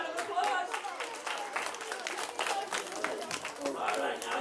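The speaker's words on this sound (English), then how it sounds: "big round of applause" An audience applauds at a live community event in LaVergne, a sustained crowd of clapping with many overlapping hand claps over a few seconds, while someone talks over it.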